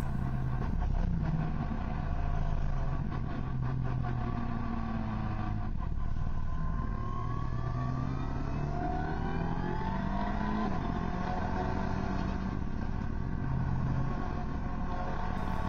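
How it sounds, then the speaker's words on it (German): Race cars such as GT3, GT4 and Porsche Cup cars lapping a Swiss circuit during a trackday, several engines droning and shifting pitch as they pass at a distance, a continuous layered roar with no talking. "Während einem Trackday sind verschiedene Fahrzeugkategorien unterwegs."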